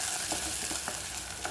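Green chillies go into a rasam pot and crackle in the hot pan with a soft, continuous sizzle, punctuated by faint scraping taps of stirring, fairly quiet and with no voices.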